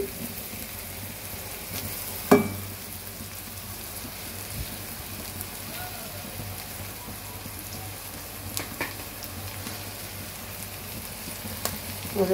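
Fenugreek seeds crackle in hot oil, a steady close sizzle with occasional sharper pops rising above the hiss.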